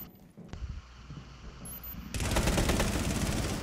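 Video game gunfire: rapid bursts, starting with a sharp shot and swelling into a dense, continuous rattle of automatic fire; no speech.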